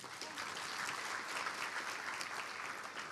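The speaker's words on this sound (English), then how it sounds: "deserve a hand of applause" Steady applause from a crowd at an annual general meeting, many hands clapping continuously at an even level throughout, heard from some distance.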